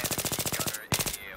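Burst fire from an M16A4 rifle in Battlefield 3, a rapid run of about a dozen close, sharp gunshots, a brief pause, then a second short burst that trails off into a ringing tail.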